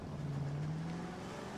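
Engine of a player-owned civilian car in the video game L.A. Noire, a steady low hum with a faint rising tone, moderately quiet and continuous with no talk.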